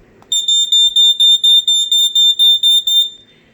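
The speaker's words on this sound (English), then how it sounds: "This one is from circa 1986. That's what the box said, so let's go ahead and give it a test." A piercing, high-pitched vintage smoke alarm from about 1986 beeps rapidly about a dozen times in a steady pulse during a test, loud and close, after a brief click.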